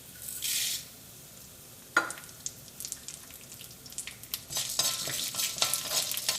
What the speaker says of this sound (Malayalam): നമുക്കിതിലേക്ക് തുവരപ്പരിപ്പിടാം.